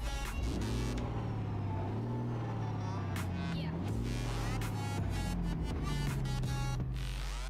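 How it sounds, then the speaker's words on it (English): Semi-truck engine revving in American or Euro Truck Simulator, a loud deep diesel roar rising and falling in repeated throttle swells over a low idle. "Let me listen to this engine."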